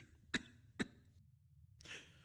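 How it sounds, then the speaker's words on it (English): A person coughs twice in quick succession, short close dry bursts, followed by a soft breathy exhale after a brief pause. "That has not been a good cough"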